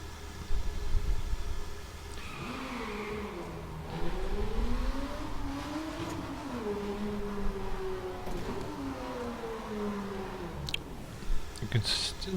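An Aston Martin V12 Zagato's engine revs in The Crew racing game, its tone climbing and dropping through several gear changes, with a voice talking over the engine for much of the stretch.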